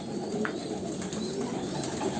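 Pigeons coo faintly and steadily in the background over a constant low hum, with a few soft clicks and no talking.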